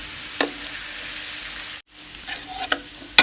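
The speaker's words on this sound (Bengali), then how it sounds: "পেঁয়াজটা এখন এই যে একটু ভেজে নি" Onions sizzle steadily in a pan while being fried for a hilsa fish curry, with sharp clicks of a spatula scraping and stirring now and then and a brief break in the middle.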